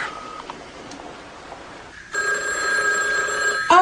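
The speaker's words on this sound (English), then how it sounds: "Let me get the phone." Telephone in a hospital setting: faint beeps at first, then a loud electronic ring tone that starts abruptly and holds steady, close by and alone.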